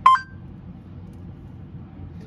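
A LEGO SPIKE Prime hub gives a single short electronic beep to start its countdown timer, a quick bright tone at the very beginning followed by near silence with a faint low hum.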